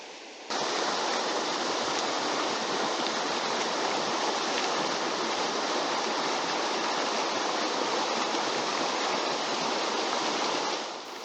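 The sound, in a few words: waterfall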